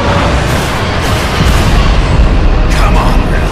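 Forward cannons of a ship in the video game Bulletstorm fire in a loud, sustained rumbling barrage of booms that fills the whole stretch, with a sharper burst near the end.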